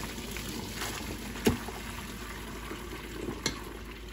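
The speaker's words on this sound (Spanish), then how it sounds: "Escurrimos bien todo el agua." Cooked spaghetti being drained of its water, a steady wet rushing and splashing with a couple of sharper knocks, moderately close, with no talking.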